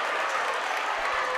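A basketball crowd in a high school gym roars steadily as the Mohawk Warriors take the lead, a continuous wash of cheering and clapping heard from a distance.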